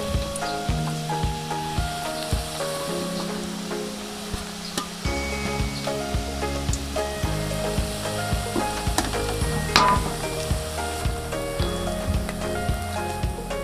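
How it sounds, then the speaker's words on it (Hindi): Gojha, traditional Bengali flaky sweets, deep-frying together in hot oil over a low flame, with a steady crackling sizzle and popping throughout and a faint background hum, no talk. "तेल गरम हो चुका है और अब इसको हम इसमें डाल देते हैं सबको एक साथ। हम लोग अच्छी तरह से तल लेंगे।"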